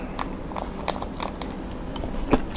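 Crunchy squid with seaweed and salmon is bitten and chewed close to the mouth, a run of crisp crackling crunches at an uneven rhythm over a steady background hiss.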